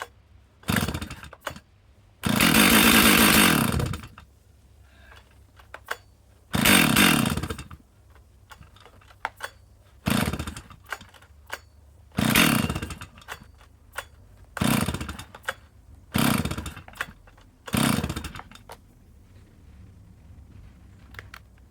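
Stihl 064 red lever chainsaw being started: a series of loud, sharp pull-start bursts with brief engine catches, repeated about eight times with short quiet gaps, close by and with no talk.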